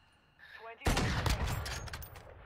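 Gunfire in Call of Duty bursts in suddenly after a brief quiet moment, a loud close volley of rapid shots that decays over the following second or so.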